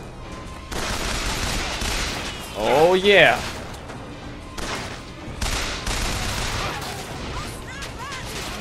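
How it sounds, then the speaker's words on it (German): Submachine gun fire in the video game Bioshock Infinite: loud bursts of rapid shots, continuing through the clip alongside other game sounds, with someone speaking over it. "die letzten Schüsse meiner Maschinenpistole?"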